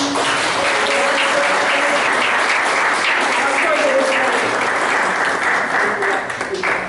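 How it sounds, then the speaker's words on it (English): Church audience applause for a volunteer playing Abraham in a Bible lesson skit, loud continuous clapping with voices and faint tonal sounds mixed in, fading slightly at the end. "So let's give a round of applause to my Abraham"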